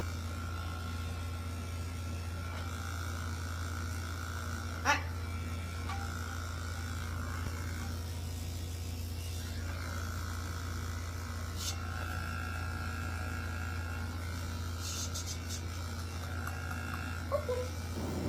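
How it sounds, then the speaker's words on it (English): An electric dog clipper buzzes steadily and fairly quietly while trimming a Yorkie, a constant low hum running the whole time with a few faint clicks and small handling noises on top. "the loud buzzing of the clipper can be very scary for dogs"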